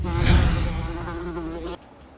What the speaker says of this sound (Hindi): अरे वो मच्छर था।